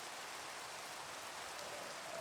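Steady, even hiss of rain falling in the video game Minecraft, a continuous dense patter that holds at the same loud level throughout with no voices over it.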